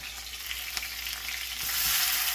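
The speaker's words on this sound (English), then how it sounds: "Now we are going to put the chilies and the curry leaves. Be careful, the oil will splatter." Green chilies and curry leaves sizzle in hot oil while Marathi kanda pohe is being cooked, a steady, close, loud crackling hiss that swells slightly toward the end, with no voices.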